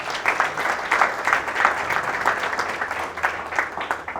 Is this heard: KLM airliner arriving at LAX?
no